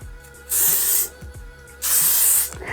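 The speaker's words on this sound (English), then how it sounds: "I'm going to spray it again." Two bursts of hairspray from an aerosol can onto a bridal chignon, each a steady hiss lasting about a second, close and fairly loud, with quiet handling between.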